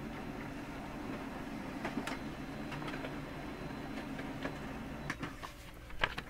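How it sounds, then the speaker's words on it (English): A USB-connected home printer whirs and rattles steadily, with a low mechanical hum and scattered clicks and ticks as it feeds and prints a test page. "the printer's firing up right now. It's about to print."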